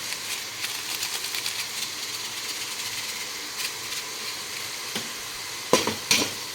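Beef browning in a pan, a steady close sizzle of frying meat with a few sharp crackles and pops near the end, no voices.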